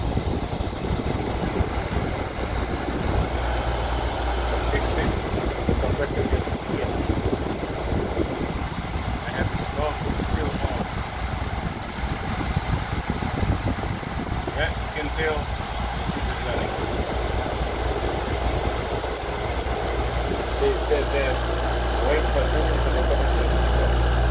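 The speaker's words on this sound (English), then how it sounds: "the compressor just kicking. You know the noise is different, the compressor just kicking guys." An air conditioner compressor runs on power from a 2000W off-grid pure sine wave inverter (48V DC to 120V AC). It makes a steady, loud low hum throughout, and a person talks over it.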